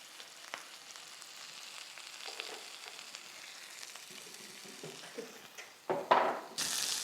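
A steak sears in a hot pan with a faint, steady sizzle, joined near the end by a few louder clinks and scrapes of cookware.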